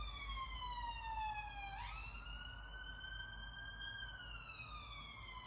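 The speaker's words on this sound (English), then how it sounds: "I'm just waiting for the sirens to go." A wailing siren sweeps slowly down, then jumps and rises again, steady and moderately loud over low traffic rumble as an emergency vehicle goes by.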